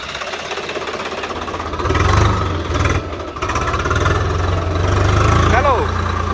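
A steady, low Swaraj 855 FE tractor engine idle rumbles throughout with a faint knocking texture, swelling slightly louder at times, with no talk over it.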